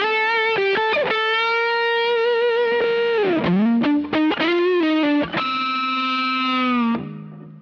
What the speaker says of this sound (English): I use the Benson Germanium Fuzz here as a boost